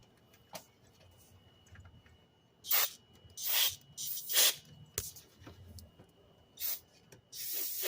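Carburetor cleaner sprays into a scooter carburetor in short hissing bursts, several separate blasts spaced a second or so apart, close and fairly loud against a quiet background.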